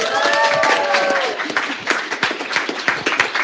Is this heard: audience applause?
yes